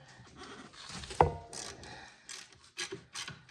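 A ratchet clicks in short bursts as it works the skid plate bolts loose on a 1985 Honda ATC250ES three-wheeler, with a sharp metallic knock partway through and a few quick ratcheting strokes near the end, close and without talk.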